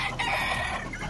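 Fighting roosters found inside a prison cluck and crow loudly in a brief, dense burst of fowl calls.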